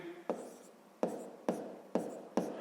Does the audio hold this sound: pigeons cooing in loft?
no